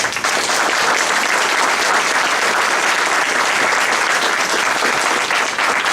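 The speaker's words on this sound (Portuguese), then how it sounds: "por favor, aplaudam o Pimentel." A roundtable audience at a panel on acupuncture regulation bursts into loud, sustained applause, a thick, continuous wash of clapping that stays steady for several seconds.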